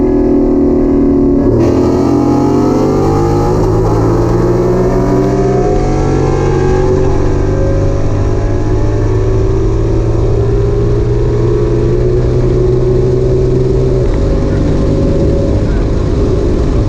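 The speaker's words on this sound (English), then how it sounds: "So I cut the cats off, did a cat delete or free flowing exhaust" A 2015 S550 Mustang GT with its catalytic converters cut off for a free-flowing exhaust revs loudly and close, its engine note climbing and dropping through several throttle blips over a constant deep rumble.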